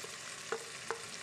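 Potatoes and vegetables fry softly in melted butter in a pan while being stirred, a quiet steady sizzle broken by three light scrapes of the spoon.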